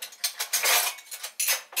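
A metal spoon clinks repeatedly against a coffee cup while stirring, a quick irregular run of bright close taps and scrapes with no talk.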